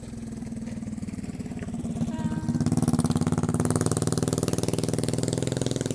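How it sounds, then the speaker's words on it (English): A motorcycle engine grows louder, its rapid pulsing roar swelling as it draws near and passes close by, staying loud to the end. "Just a moment, the motorbike is passing."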